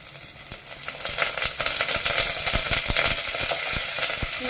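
Garlic, curry leaves and green chili fry in a pan, giving a loud, continuous sizzle with crackling pops and occasional stirring scrapes throughout.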